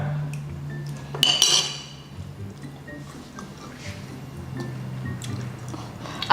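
Metal cutlery clinks and scrapes as a spoon is cleaned, with a few brief sharp chinks over a low background hum.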